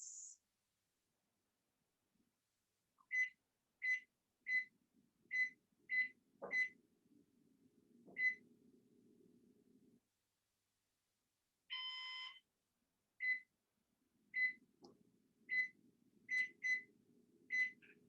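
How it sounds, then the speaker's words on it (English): A kitchen timer being set for baking cupcakes gives a run of short, sharp electronic beeps in irregular bursts, with a longer buzzing tone midway, fairly close in a quiet room, alone with no talking. "Okay, the timer is set."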